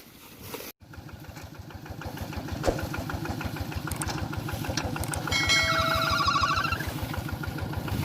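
A walking tractor engine runs up close during rice harvesting and hauling, a loud, steady rhythmic chugging with a brief dropout near the start and a thin high whine rising partway through.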